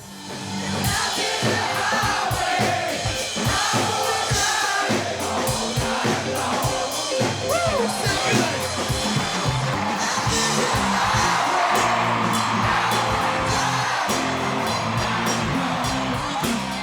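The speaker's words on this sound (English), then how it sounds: "That was a tremendous crowd" A big concert crowd at a band show cheers, whoops and yells in a dense, steady roar that holds for the whole stretch, mixed with loud live music.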